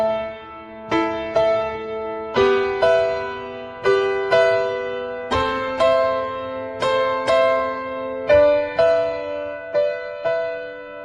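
Sustained piano chords ring into one another under a held sustain pedal, about eight close, moderately loud strikes with the notes blurring together between attacks; no voices.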